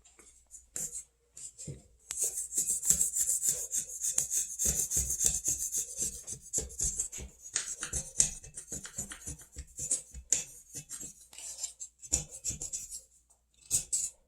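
Dried paint residue is scraped and rubbed off a restroom surface in quick, rasping strokes that come in irregular bursts, close and fairly faint, with short pauses between and no speech.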